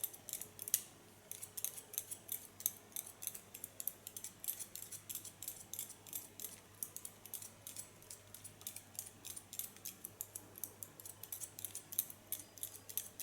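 Scissors snip rapidly through ultra short hair at a salon, a close, quiet series of crisp metallic clicks in a steady, busy rhythm with no talking.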